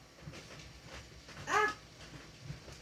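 A dog gives one brief, high whine partway through, fairly quiet against soft indoor background noise.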